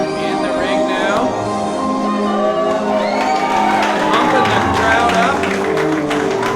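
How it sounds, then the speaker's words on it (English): A pro wrestling crowd cheers and shouts loudly at a live match, with whoops and overlapping voices building into a dense roar and a few sharp claps. "Pumping the crowd up."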